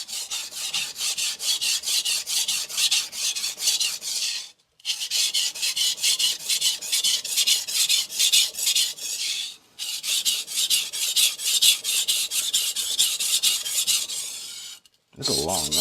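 Steady rhythmic rasping strokes of a Victorinox chef knife being sharpened on a Morihei whetstone to set its bevel, close up, with three brief pauses between long runs of back-and-forth scraping.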